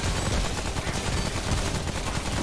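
Continuous heavy gunfire in the video game Remnant: From the Ashes during a fight against a boss: an unbroken, dense, loud wall of rapid shots throughout, with no talking.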